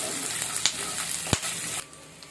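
Garlic, curry leaves and green chillies fry in a pan with a loud, continuous sizzle, punctuated by a couple of stirring knocks before the hiss drops off.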